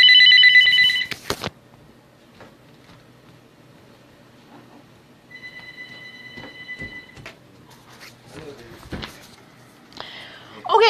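A household telephone rings with a loud, bright trilling burst at the start, then falls quiet before a fainter, steady ringing tone returns midway, with soft room noise and faint shuffling movement around it.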